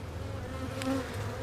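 A steady swarm of honey bees drones close by at a hive where a beekeeper has just shaken bees in and released the queen, with a dense continuous buzz holding for the whole moment and no voices.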